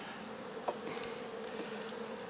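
Honeybees buzz at an open Dadant hive, making a steady, close, dense hum with a few brief louder passes of single bees and no speech.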